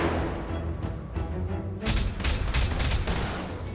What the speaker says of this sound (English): Those turrets are just tearing people up.